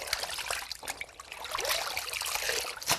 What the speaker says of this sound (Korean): 박대 껍질을 물에 담가 충분히 불린 다음 맑은 물이 나올 때까지 씻고 헹궈내야 하는데요.